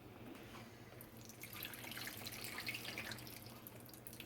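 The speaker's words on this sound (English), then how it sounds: "I'm going to leave the lid on it and kind of pour it into this bowl here." Liquid grease is poured off a pot of browned chili meat, with the lid held partly on, into a bowl. It makes a faint, steady trickling and splashing pour at close range with no talking.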